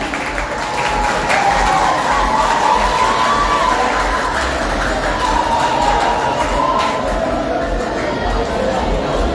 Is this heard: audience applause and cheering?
yes